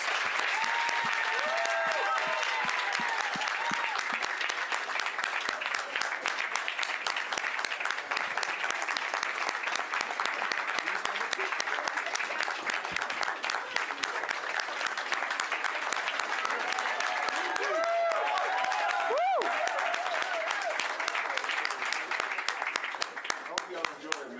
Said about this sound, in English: Ladies and gentlemen, let's give Mr. Haslem another round of applause.